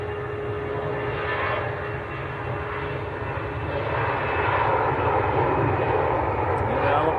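A Saudi Boeing 787-9 Dreamliner taxiing at Manchester Airport, a loud continuous jet engine roar with a steady whine that swells slightly toward the end.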